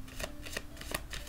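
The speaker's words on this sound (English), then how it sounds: "I'm done shuffling." A deck of cards is shuffled for a card reading, several quick riffled bursts close to the microphone, soft and brief, with no talking.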